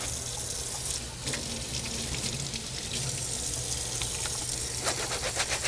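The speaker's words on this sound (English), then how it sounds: "We're going to retrieve a paper towel to turn the faucet on." Water runs steadily from a faucet in a radiography operatory, a continuous hiss and splash with faint clinks and handling sounds near the end.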